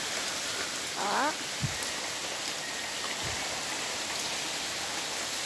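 Steady rain pours down into a well at a house with a metal roof, a dense hiss filling the whole clip, with a brief voice near the start and a couple of faint knocks.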